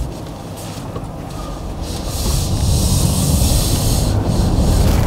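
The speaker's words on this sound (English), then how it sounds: "identify what exactly is the rattling noise just on the top of the roof right here on the driver's side." Inside a Mercedes EQC 400 at motorway speed, a broad rushing wind and road roar swells and then holds, with a possible rattle near the driver's-side front roof blended into the noise.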